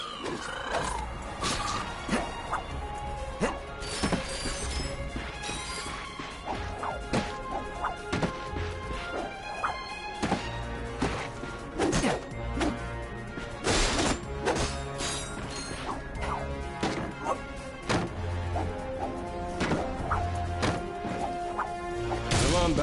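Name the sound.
wooden crates being smashed in a video game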